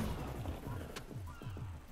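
Gunshots in Ark: Survival come as a quick run of low, booming thuds, about five evenly spaced blasts, with one sharp crack near the middle, fairly faint overall.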